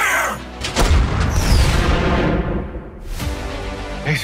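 Loud tank cannon fire in a 2023 war film trailer, booming blasts with rumbling battle noise between them and a sharp burst near the end.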